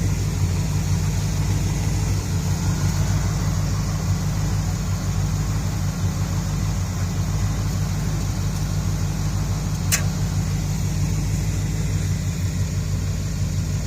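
A 1978 Jeep Cherokee engine idles with warm oil, giving a steady, even low rumble that holds unchanged throughout with a single brief click partway through.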